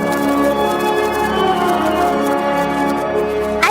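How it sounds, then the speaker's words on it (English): Bell-like chimes signal a page turn in a read-along story, ringing with sustained metallic overtones that shimmer steadily for several seconds before a brief brighter flourish at the end, with no voices present. "You'll know it's time to turn the page when you hear the chimes ring like this."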